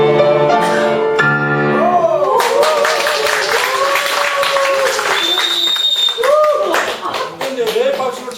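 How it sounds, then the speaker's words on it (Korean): Hands clapping at a Won Buddhist training session, a scattered run of sharp claps sounding under steady talk and sustained musical tones, fairly close. "근데 왜 박수를 쳐요?"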